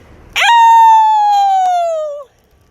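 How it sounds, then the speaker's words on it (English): A single long human howl rings out outdoors at the St. Louis Downtown Howl, a nightly 8 p.m. event. It starts abruptly, holds loud and steady for nearly two seconds, then slides lower in pitch and cuts off. "everybody across the country is doing this howl thing at 8 p.m. to boost everybody's spirits"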